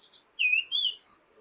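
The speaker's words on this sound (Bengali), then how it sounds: "এখানে একটা টেডি কবুতর" A Teddy breed pigeon in a loft gives two short, clear calls in quick succession, close and fairly loud against a quiet background.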